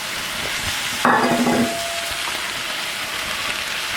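Red onion and zucchini sauté in a pan with a steady sizzle throughout, and a brief louder burst of frying and stirring near the start as the vegetables go in. No one speaks.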